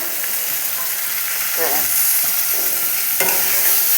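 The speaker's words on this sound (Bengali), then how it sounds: "এবার এর মধ্যে একটু লেবুর রস দিয়ে দেবো" Lemon juice goes into a hot pan of frying tomato and small fish in oil, giving a steady sizzle with stirring and a couple of brief sharper hisses.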